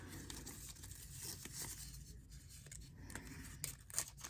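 Scissors cut along the printed line of a paper bracelet sizing strip, making faint, close snips and rustles of paper with a few sharper clicks near the end.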